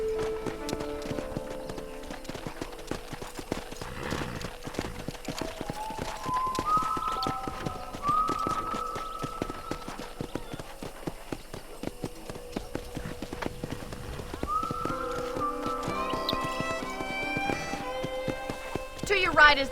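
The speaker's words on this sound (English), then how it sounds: "let's see if you can still ride a horse" Horse hooves clip-clop steadily throughout in the video game Red Dead Redemption, with game music playing and a voice speaking over them.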